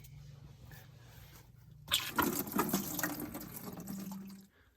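Coolant drains from the intercooler cooling system of a Hellcat Charger or Challenger, a steady liquid splash and trickle that starts abruptly partway through, runs loud and close for a few seconds, then tapers off, with no talking.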